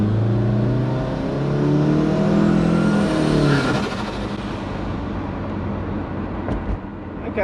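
Big-turbo Subaru on 8 PSI boost, kicking down and accelerating hard, its loud engine note rising in pitch for several seconds before easing off into a lower, steadier drone, close to the car.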